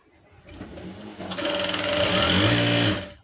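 A sewing machine stitches a blouse hem, starting with a soft rattle that builds into a loud, continuous mechanical whir, then cuts off abruptly near the end; no speech is heard.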